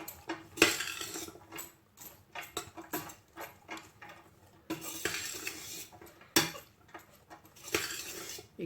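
Vegetable fried rice with carrots and green beans stirred in a pan, a utensil clinking and scraping against the metal in irregular close taps and bursts, with no talking.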